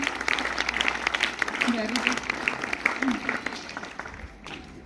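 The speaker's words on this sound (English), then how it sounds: "A big round of applause for the 12th medical again." A quiz audience applauds a team, the 12th medical, at a biology quiz. Steady clapping runs throughout beneath a voice speaking over it, then thins toward the end.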